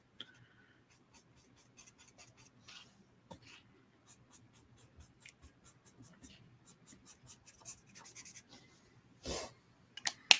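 Alcohol markers blending colour on paper, heard as soft intermittent rubbing and scratchy strokes up close, quiet and sparse, growing a little louder toward the end.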